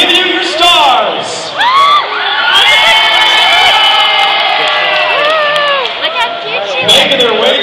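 A crowd at an Ice Palace opening ceremony cheers and whoops as Narnia stars arrive on stage, loud high-pitched shrieks and screams from many young fans, rising and falling throughout.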